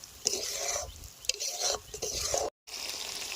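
Spice masala for achari chicken is stirred and sautéed in oil, heard as bursts of sizzling broken up by the scrapes and knocks of a utensil against the pan, with a brief silent gap late on.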